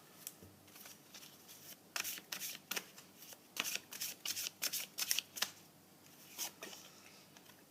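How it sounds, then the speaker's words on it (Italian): Tarot cards are handled, drawn and laid down on a table, giving a series of soft, quick crisp flicks and slaps in irregular bursts, close and fairly quiet. "ti metto un'altra carta di queste"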